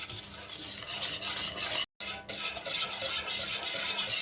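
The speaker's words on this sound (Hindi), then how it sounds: "अब हम इसे बीटर की मदद से अच्छे से मिक्स कर लेंगे ताकि इसमें कोई लम्स ना रहे" Chocolate cake batter mixed with a beater: a steady, dense, close scraping whirr with no talk, broken by a brief silent gap near the middle.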